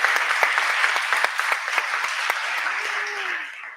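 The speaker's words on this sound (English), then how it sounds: "Big applause" Sustained audience applause fills a demo day event, dense steady clapping at close range that fades out near the end while a single voice cuts in.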